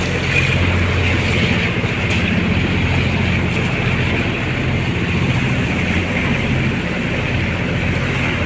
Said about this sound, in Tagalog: sabay-sabay na alis ang mga bangka.